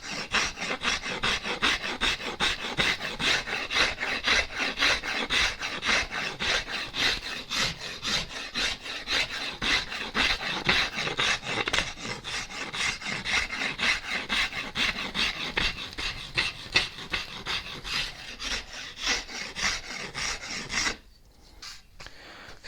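A microplane rasps along a wooden guitar neck being carved, steady rhythmic strokes of scraping, loud and close, continuing without pause before stopping abruptly near the end.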